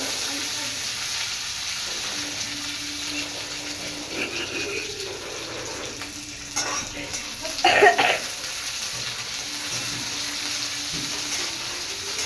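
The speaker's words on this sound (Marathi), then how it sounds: "आता हे आपण लसूण आणि मिरची मीडियम आचवरती फ्राय करून घेतली आहे." Garlic and green chilies fry in a pan over medium heat for a chutney, giving a steady low sizzle throughout with a brief louder scrape and clatter near the middle.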